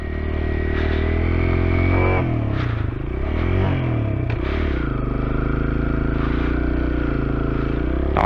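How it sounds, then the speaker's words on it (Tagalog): Kawasaki KLX 140 RF dirt bike on a rough uphill trail, its engine droning loud and steady with pitch shifts as the throttle rises and falls, plus clattering and scraping from the rocky ground. "Lakas sa motor na to."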